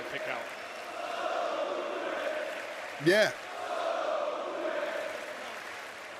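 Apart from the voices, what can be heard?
Italian wrestling crowd chanting during WWE SmackDown broadcast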